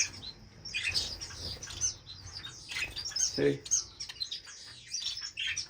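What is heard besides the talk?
Gouldian finches chirping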